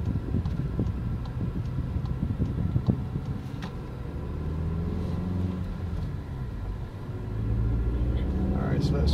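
A 2015 Volkswagen Golf GTI SE climbs uphill under full throttle, turbo boost building as its engine drones and rumbles, with shifts and rising pitch, a person talking over the engine.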